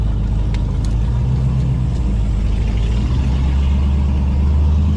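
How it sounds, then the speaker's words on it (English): Twin turbo Cadillac CTS-V at a drag strip before a second gear launch, a loud, steady low engine rumble with deep idle-like pulsing that swells slightly near the end. "moment of truth for the second gear launch"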